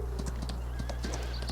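A horse in a farming video game gallops with a steady run of rhythmic clip-clop hoofbeats and lets out a whinny, heard fairly faint over a constant low hum.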